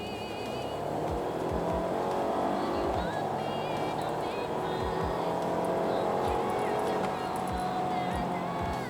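A 2018 Mercedes-Benz E350e plug-in hybrid accelerates hard in sport mode, its engine note rising in repeated pulls under continuous talking from inside the cabin.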